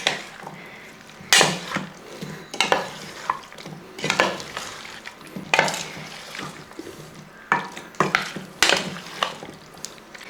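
Banana stem being stirred with masala in a pan, repeated scraping strokes of a spoon against metal in uneven bursts, over a soft sizzle, close and fairly loud.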